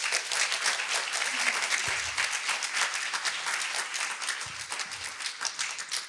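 An audience at a sustainability session gives a big round of applause for a green-club founder, with dense, sustained clapping from many hands that holds steady throughout and eases slightly near the end.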